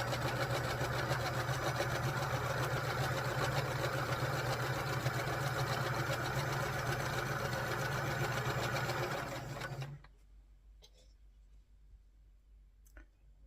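A sewing machine stitches quilt piano key sections in a steady, fast whirring run for about ten seconds, then stops abruptly, leaving near silence with a few faint clicks.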